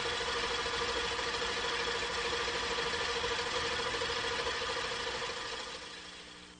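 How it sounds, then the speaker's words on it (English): A Mazda MX-3 engine runs at a steady idle while its fuel injection operates, a quiet, even mechanical hum with a faint ticking texture that fades away toward the end. "This then is the actual injection while the engine is running"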